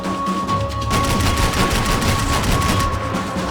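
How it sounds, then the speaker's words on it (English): Dense, sustained gunfire from a Max Payne 3 firefight, with overlapping rapid bursts and bullets whizzing past, loud and continuous throughout with no talking. "I can't concentrate with bullets whizzing past my head!"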